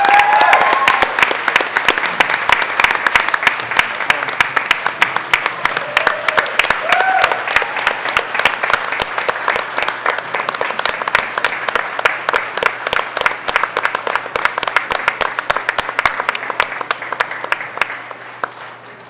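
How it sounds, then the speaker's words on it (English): A school board meeting audience gives a long, sustained round of applause, dense overlapping claps at an even level for nearly twenty seconds, fading slightly at the end, with little talk. "Let's all give them a round of applause, ladies and gentlemen."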